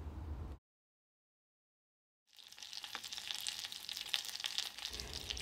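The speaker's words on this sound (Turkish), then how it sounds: "1 yemek kaşığı tereyağını eritiyorum" A tablespoon of butter melting in a pan for a purslane soup topping, a steady close sizzle and light crackle that starts after a brief silence and continues evenly to the end.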